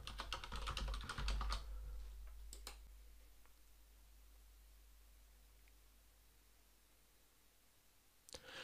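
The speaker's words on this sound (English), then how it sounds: "Type in my password." A password being typed on a computer keyboard: a quick burst of close key clicks at the start, a few more taps, then a long quiet stretch and one final click near the end.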